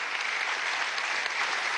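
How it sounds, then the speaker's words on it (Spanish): A crowd applauds at the inauguration of Venezuela Digital 2017, a steady, dense wash of clapping from many hands that holds even throughout, with no talk over it. "Vamos a darle un aplauso a Nip Sardi"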